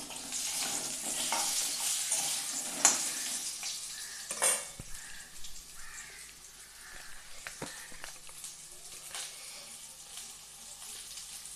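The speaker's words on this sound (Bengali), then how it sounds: "আমি এই তেলে দিয়ে দেব কেটে ধুয়ে রাখা আলুটা দিয়ে আমি একটু কষে নেব" Cut, washed potatoes hit hot oil and are stir-fried for a pui shaak curry: a close sizzle with spatula scrapes and clinks against the pan, and a few sharper knocks in the first half.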